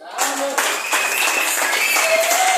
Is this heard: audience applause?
yes